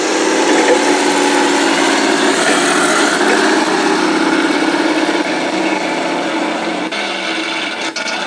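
A small RC model tank on an IBU2 base, motor whining steadily at full throttle, a continuous buzzing drone with gear noise that stays loud and even throughout before easing slightly near the end.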